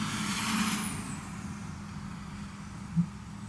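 Steady broadband road and wind rush inside a moving vehicle driven with its windows down, with a low engine rumble and one brief thump near the end.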